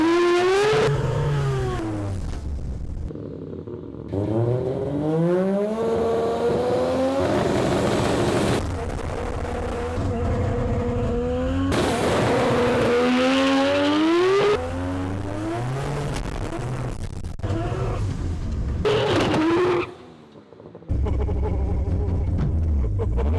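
A fast car accelerates hard, first with traction control off and then with it on, its engine revving in loud rising sweeps through repeated gear changes, with brief lifts and silent gaps between runs and a faint voice at times.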